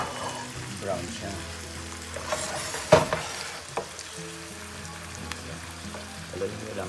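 Pork asado being stirred in a pan, a soft sizzle with light scraping and one sharp knock near the middle, fairly quiet, with faint background sounds.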